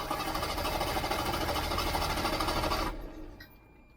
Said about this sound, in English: That actually cranks the engine faster than the real battery does.